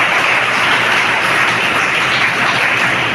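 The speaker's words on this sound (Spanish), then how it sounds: "Denle un aplauso fuerte al Señor" A church congregation gives loud, sustained applause during a Spanish-language service, a thick and unbroken wall of clapping from many hands.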